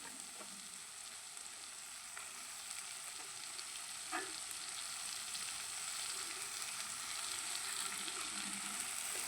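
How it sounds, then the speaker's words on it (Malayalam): Masala sautéing in a pan with fried ivy gourd for a pickle, giving a continuous close sizzle with a few stirring scrapes and one brief clunk, and no voices. "ഇനി മസാല നന്നായിട്ട് ഒന്ന് വഴറ്റി എടുക്കുക."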